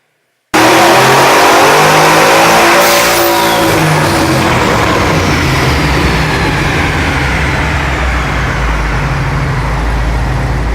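A twin-turbo Chevrolet Tahoe engine revs hard and loud, climbing and falling in pitch with a steady roar and turbo whine throughout, no voices over it.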